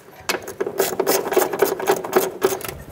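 A ratchet runs bolts into the upper control arm of a 2008-2012 Honda Accord, making a fast, steady clicking rattle close by for a few seconds.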